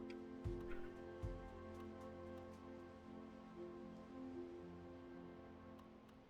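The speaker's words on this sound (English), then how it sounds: "it's raining. First time seeing rainfall in the game." Faint, steady rainfall in a Cities: Skylines 2 city hiss under a low ambient bed, with a couple of soft thumps near the start and no talking.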